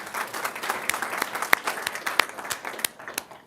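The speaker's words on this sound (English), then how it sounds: "our CEO is clapping the loudest" Audience members applaud at a city council special meeting in Encinitas, a modest crowd clapping with distinct sharp individual claps over a softer spread of hands, fairly close.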